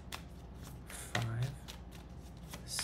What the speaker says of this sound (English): seven overhand shuffles